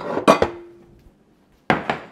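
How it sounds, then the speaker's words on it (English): A bowl is taken out and set down beside a meat mincer, making a few sharp hard knocks and clinks, one with a short ringing tone, then a pause and two more clacks. "Let's get another bowl out."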